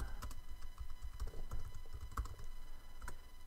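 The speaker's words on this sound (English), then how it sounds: "I'm going to type in live with" Keys tapped on a computer keyboard while entering a website name in iWeb, a run of quick, irregular clicks at close range with no talking.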